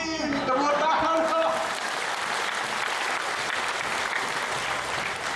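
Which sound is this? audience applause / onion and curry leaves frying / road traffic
audience applause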